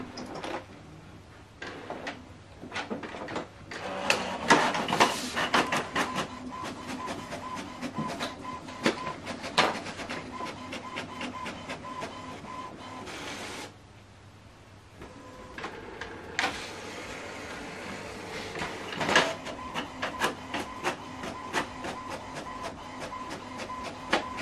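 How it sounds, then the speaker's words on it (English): An HP Smart Tank printer prints a document with a run of mechanical whirring, clicking and sliding feed sounds that stop partway through, pause briefly, then resume with more rattling paper-handling noise, fairly close and moderately quiet. "Printing completed successfully."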